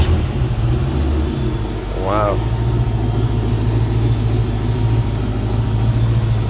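A 1972 Chevrolet Camaro with a twin-turbo engine fires up and settles into a steady, deep idle close by, a continuous low rumble while a man briefly exclaims over it.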